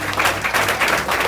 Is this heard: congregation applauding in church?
yes